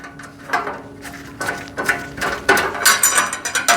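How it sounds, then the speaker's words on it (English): A ratchet tightens a screw into a rivet point on a metal bin organizer rack, sounding as a run of quick, close clicking bursts that grow louder and denser toward the end. "So that screw goes in here, and it has a little rivet point that you can tighten that up into."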